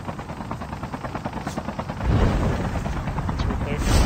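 Helicopter in a multiplayer shooter video game, a steady rotor chop close by that grows louder and heavier partway through, under a voice.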